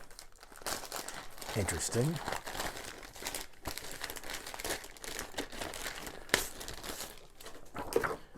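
Close, crisp crinkling and rustling of a plastic bag as a board game rulebook is unwrapped during a Mage Knight: The Lost Legion unboxing, in repeated handling bursts, with a brief spoken remark over it.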